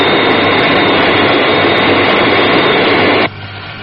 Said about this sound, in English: Aircraft on glide path 3 miles to threshold.